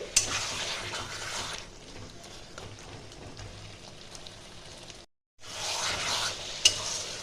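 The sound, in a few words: stirring chicken masala frying in pan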